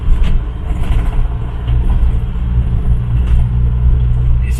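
A Rickman Ranger kit car drives along, its engine giving a steady, low rumbling drone heard from inside, with no talk.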